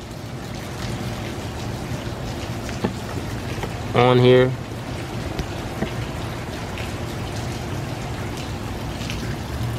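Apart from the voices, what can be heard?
rain falling outside a window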